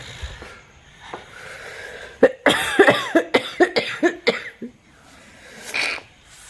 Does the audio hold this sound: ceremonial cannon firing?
no